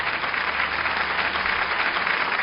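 An audience claps at a twentieth-anniversary awards ceremony for a Suzhou television storytelling program, producing a dense, even wash of applause that holds steady throughout.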